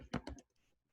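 Two quick keystrokes on a computer keyboard, close and soft, followed by a few faint taps before the room falls quiet.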